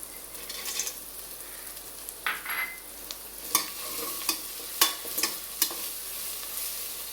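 Cashew nuts fry in a pan with a soft, steady sizzle broken by several sharp clicks and scrapes of stirring, with no voices.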